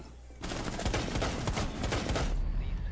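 Rapid bursts of video game gunfire crackle in a dense, loud volley lasting about two seconds after a brief quieter lead-in, then cut off abruptly.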